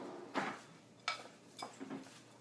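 Ingredients with cinnamon stirred in a bowl for chicken caprese, heard as a few quiet, separate scraping and clinking strokes of utensil against the bowl, close and faint, with no talk.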